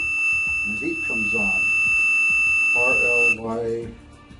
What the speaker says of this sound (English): Now there's also a beeper inside this unit